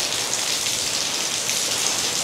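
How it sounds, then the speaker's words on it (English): Heavy rain pours steadily during Hurricane Milton near Disney World, a dense, even hiss of water hitting surfaces with no breaks, close and loud throughout, with no voices. "Still raining like crazy"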